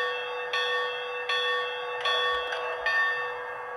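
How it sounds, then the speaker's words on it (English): A bright electronic model train locomotive bell, from a Williams ATSF 4-6-2 Pacific, rings steadily with a regular repeating clang, about once every three-quarters of a second, sustained and fairly loud. "Here's the bell."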